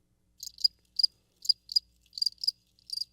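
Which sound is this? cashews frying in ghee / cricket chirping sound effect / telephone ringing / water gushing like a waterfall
cricket chirping sound effect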